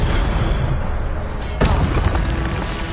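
An Incendio fire spell bursts in Hogwarts Legacy: one sudden whooshing blast rises out of a loud, busy game soundscape near the middle, then dies back into the steady background noise.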